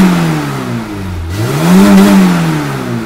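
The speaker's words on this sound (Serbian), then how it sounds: "Da otvorim how, da vidim motor kako se ponaša." A car engine revs loudly up and down close by, a steady droning growl rising and falling with no talk over it.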